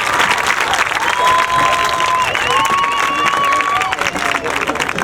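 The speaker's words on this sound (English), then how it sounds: "hear a big round of applause for the Sound of Pride from Cooper City High School." A stadium crowd applauds and cheers for the Cooper City High School Sound of Pride marching band, a broad wash of clapping with a faint whistle-like tone and voices mixed through it.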